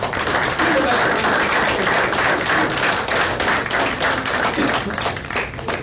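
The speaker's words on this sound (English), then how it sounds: "let's have a big round of applause for Kiana Mitchell, the representative" People at a regular meeting of an Indian affairs commission applaud a representative, with loud, close, continuous clapping and distinct individual claps running throughout.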